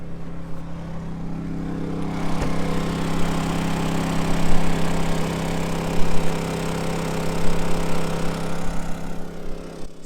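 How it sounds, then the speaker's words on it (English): A Honda 2200 watt portable generator runs at a steady drone close by, charging an electric pickup truck at a rest stop, with a constant engine hum and slight fluctuations. "So I got the Honda generator out. It's a 2200 watt generator, so it's not a lot, and it's charging really slow."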